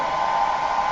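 Steady, close roar of a household hair dryer blowing hot air on its high setting, a constant airy rush with a humming motor whine and no other sound.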